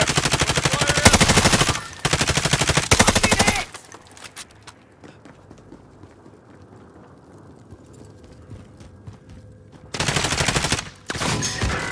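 Bursts of rapid automatic gunfire in a battle royale video game at an apartment complex, loud repeated volleys separated by a quieter stretch of faint ambience.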